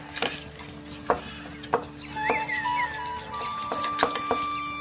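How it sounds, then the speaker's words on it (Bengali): A spoon mixes biryani spices into sour yogurt in a bowl, giving a series of close, light clinks and scraping taps at an irregular rhythm over faint background hum, with no talking. "এবারে মশলাটা ভালো করে আমি চামচের সাহায্যে টক দইটা ভালো করে মিশিয়ে নেব"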